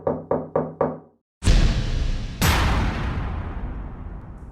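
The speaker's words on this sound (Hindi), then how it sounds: "दरवाजा बजाया जाने लगा।" Four sharp knocks on a house door in a residential neighborhood, loud and close, followed after a brief silence by two heavy booming impacts that ring out and slowly fade.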